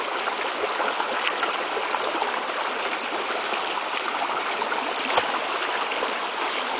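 A dog swims in outdoor water and splashes, close by, under a steady rushing stream sound that fills the whole stretch at an even level.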